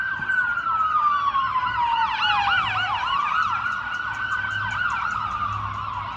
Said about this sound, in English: Now we got some emergency vehicles coming.